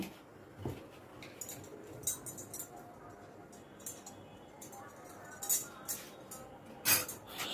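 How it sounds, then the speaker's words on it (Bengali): Hot semolina and milk powder mixture being stirred on a plate, soft scraping with scattered clinks of a metal spoon against the dish, close and fairly quiet, a few louder knocks near the end. "একটু নাড়াচাড়া করে এটাকে ঠান্ডা করে নেবো"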